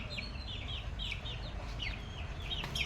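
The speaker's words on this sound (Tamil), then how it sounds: "பாருங்க, இந்த கோழி எங்கே இருக்குன்னு" A chicken clucks in short repeated calls at moderate distance, set over a low rumbling background hum.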